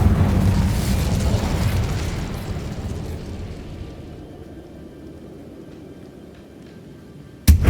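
A fire spell cast in the Hogwarts Legacy video game bursts out as a loud, whooshing blast, then fades into a long rumbling tail, with a sharp new hit at the very end.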